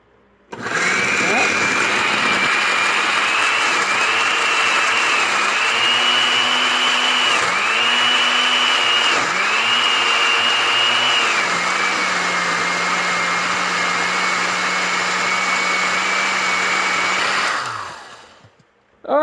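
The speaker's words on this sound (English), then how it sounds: "My blender, I put liquefy." A kitchen blender on its liquefy setting purées chili garlic sauce ingredients with a loud, steady motor whir, the pitch dipping briefly several times as the load shifts, then winding down at the end.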